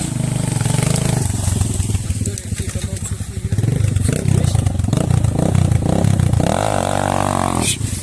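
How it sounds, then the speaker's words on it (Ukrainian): A four-stroke motorcycle engine runs loud and close, its dense steady drone continuing throughout with rough clatter and a brief rise in revs near the end. "чотирьохтактний мотор"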